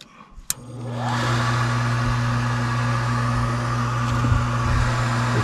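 A furnace inducer motor spins up after a sharp click and then runs at a steady, close, tonal hum with a droning whine that holds level to the end, no talking.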